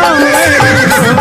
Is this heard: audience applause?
no